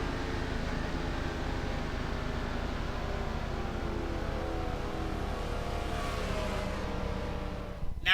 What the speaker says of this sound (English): Now here we are riding on board with the number 19 Toyota of Tim Fiegel